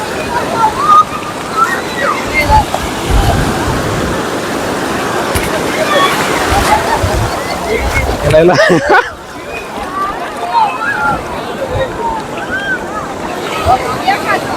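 Sea water surges and splashes at the Nishkalank Mahadev temple shore during high tide, a loud continuous wash roughened by wind noise on the microphone, with a sharp burst near the end and people talking throughout.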